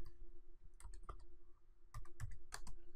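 Keystrokes on a computer keyboard as a title is typed into a text box: quiet, scattered clicks in small clusters, close by, with no talking.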